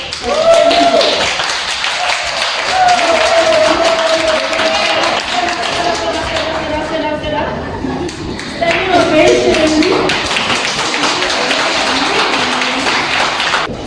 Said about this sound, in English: give yourselves a round of applause for showing up today